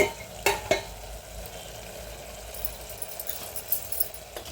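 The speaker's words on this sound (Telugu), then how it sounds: "గేట్తో ఒకసారి ఇలా కలుపుకున్నామండి" A spatula stirs bottle gourd curry in a pan, with a steady soft sizzle and a few scraping clicks against the metal, close and fairly quiet.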